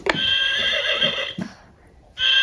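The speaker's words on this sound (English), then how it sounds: "It's a horse." A horse whinnies loudly and shrilly, a long wavering neigh, then pauses briefly before another neigh begins.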